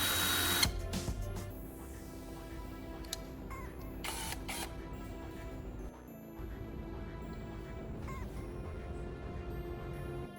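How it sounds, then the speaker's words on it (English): A drill whirs steadily while it spins a homemade soldering tip pressed against sandpaper, giving a continuous mechanical whine with a gritty scrape underneath. "I turn on the drill and press the tip against a piece of sandpaper to sharpen it"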